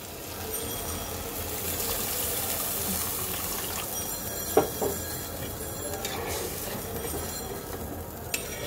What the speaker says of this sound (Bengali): এখন আমি দিয়ে দেব ঝোলের জন্য জল।